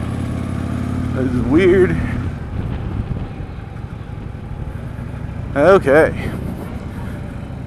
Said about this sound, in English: a rental ride, so I guess it is kind of a test ride, of a 2014 Harley Davidson Street Glide